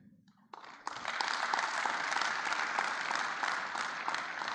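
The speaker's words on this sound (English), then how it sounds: "A round of applause." Conference audience applauding after a closing thank-you at a tourism event, a dense steady patter of many hands that swells in after a brief quiet start and holds evenly.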